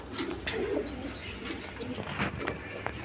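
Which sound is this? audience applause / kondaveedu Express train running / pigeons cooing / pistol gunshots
pigeons cooing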